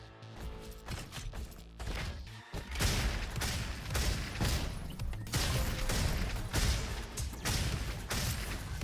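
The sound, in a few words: shotgun firing in a video game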